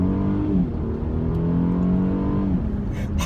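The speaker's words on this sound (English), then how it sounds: "It's a really good sound. The engine is super loud." A 2016 Mercedes E350 sedan engine pulls hard and loud, its tone rising steadily as it accelerates, then easing near the end with a brief whoosh.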